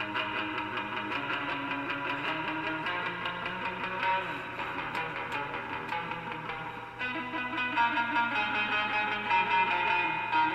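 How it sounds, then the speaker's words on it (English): Electric guitar played through a converted 1967 GE wireless hi-fi set used as a guitar amp, with heavy surf-style reverb. Dense sustained chords and picked notes wash together continuously, loud and full, with no talking over them. "Now watch this reverb out the yin yang."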